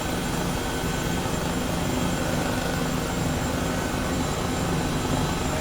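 An H135 helicopter flies over Burbank in Microsoft Flight Simulator 2020, a dense continuous rotor and turbine drone at steady loudness with no voices.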